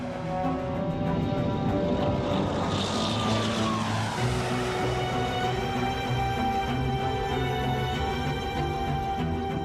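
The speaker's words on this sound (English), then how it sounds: "Both planes take off into a stormy sky." Aircraft engines drone loudly and steadily as planes take off into a stormy sky, with a sustained multi-toned hum and a rising then falling whine sweeping through near the middle.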